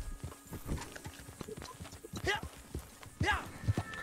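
Hooves clip-clop in a steady trotting rhythm, close and moderately loud, with a horse snorting partway through, from a horse in the video game Red Dead Online.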